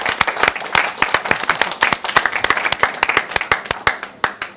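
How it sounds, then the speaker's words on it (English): Applause for volunteers at a Jewish Care campaign dinner: a modest group clapping, with individual sharp claps distinct and irregular, close and continuous throughout. "A round of applause for the volunteers."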